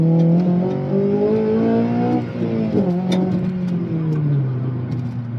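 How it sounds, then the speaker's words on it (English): Honda Civic Type R with a new exhaust, engine revving hard and pulling through VTEC, a loud, close, rising howl that shifts pitch and settles lower as the revs drop, heard alone. "Going through the VTEC, it sounds really good"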